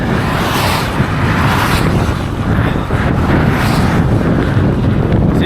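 Strong wind in Iceland roars and buffets the microphone continuously in loud, rushing gusts, with no voices.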